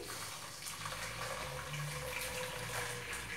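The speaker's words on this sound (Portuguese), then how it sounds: "Vamos colocar a água." Water pours into a cooking pot with garlic for creamy bar-style potatoes, a steady, soft splashing stream running continuously and heard alone.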